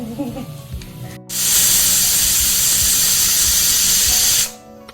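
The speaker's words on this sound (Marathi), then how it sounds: "कुकरची शिट्टी होते" Pressure cooker whistle in a home kitchen where corn pulao cooks, a loud continuous steam hiss lasting about three seconds, ending abruptly, with quieter kitchen sounds before and after.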